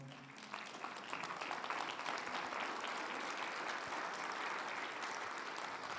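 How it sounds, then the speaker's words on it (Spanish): A church congregation applauds during a sermon, dense steady clapping filling the room at a fairly even level from start to finish, with no voice rising above it. "Dale un aplauso al Señor."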